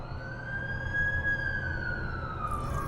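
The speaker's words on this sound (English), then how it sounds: "That's the ambulance I called." An ambulance siren wails in a video game cutscene, with a steady rising-and-falling tone over a low rumbling city backdrop, moderately loud and with no voices.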